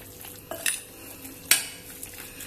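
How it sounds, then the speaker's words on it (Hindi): Chicken being mixed with lemon juice and crushed black pepper in a bowl, giving a few sharp utensil clinks and scrapes against the dish, with quiet pauses between them. "अब इसको मैं करूंगी मिक्स।"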